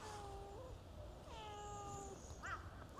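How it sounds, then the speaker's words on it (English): A cat meows several times at a stairway during a road trip in South Korea, with drawn-out, wavering cries that come and go and sound moderately near against a quiet outdoor background. "there's a cat. I hear a cat."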